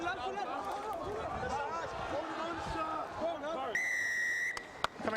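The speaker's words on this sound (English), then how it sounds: "Loud blast from the referee's whistle." A referee's whistle gives a sharp, steady blast at a schools' rugby cup final, cutting through crowd noise and commentary, followed by a short second peep.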